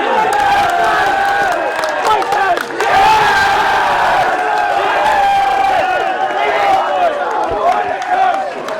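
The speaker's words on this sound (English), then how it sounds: "give a nice welcome and a cheer for the Éire Óg captain" A large outdoor crowd cheers, whoops and applauds loudly and steadily at an under-21 hurling final trophy presentation for the Éire Óg captain, with a brief dip in the middle before the roar swells again.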